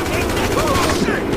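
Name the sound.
gunfire from a video game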